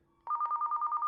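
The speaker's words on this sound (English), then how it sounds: "Oh, Tony, look, we've got a phone call." A telephone begins ringing with an incoming call, a clear rapid warbling electronic trill that repeats steadily after a brief quiet moment.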